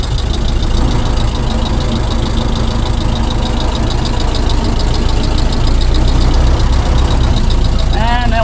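A stock 1913 Ford Model T engine runs loudly nearby, a steady rough mechanical clatter and rumble with a high whine creeping in near the end, no clear talk over it.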